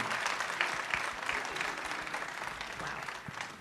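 Indoor audience at a community event applauding, a dense sustained wash of many hands clapping that holds steady and tapers slightly at the end, with faint voices mixed in.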